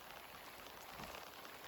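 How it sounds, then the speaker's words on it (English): Heavy rain pours steadily and close, a dense even hiss of drops striking water and surfaces with no pauses, recorded outdoors while fishing for musky in a downpour. "It looks great. It's raining hard."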